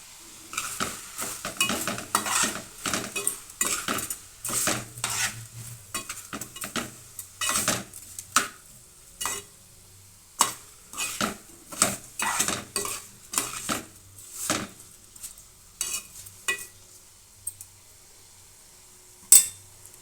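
A metal spoon scrapes and clinks against a cooking pot as Tadipatri biryani is stirred, irregular clattering strokes with a faint sizzle beneath, fairly quiet and close, with no one speaking.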